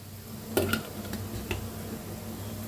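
Cooked basmati rice stirred with salt and sugar, a soft close scraping and shuffling with a couple of light utensil taps against the pot, quiet and steady, with no talk.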